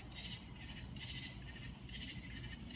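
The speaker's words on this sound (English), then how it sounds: "Male cicadas singing and making all that noise," Male cicadas sing at night in a steady, high-pitched drone that stays unbroken and even in level throughout, with a soft low rumble beneath and no voices.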